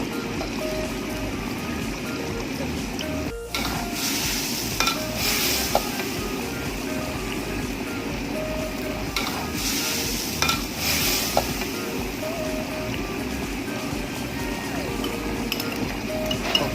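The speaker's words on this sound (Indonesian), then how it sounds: "Oke, aduk terus sampai bumbunya meresap." Chicken rica rica is stirred in a pot, with a continuous low sizzle, repeated scraping and clinks of a utensil against metal, and occasional louder bursts throughout.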